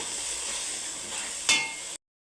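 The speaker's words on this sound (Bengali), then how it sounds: "এখন এটাকে আমি ভালো করে মিশিয়ে নেব" Vegetables with salt and turmeric sizzle steadily in a pan for a couple of seconds, with one brief louder scrape of the stirring spoon near the end and no talk.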